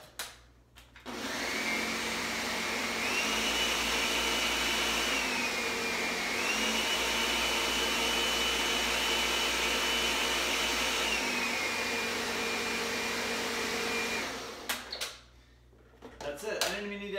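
A blender whirs loudly and steadily for over ten seconds blending a smoothie, pitch shifting slightly as it churns, then cuts off with a clatter.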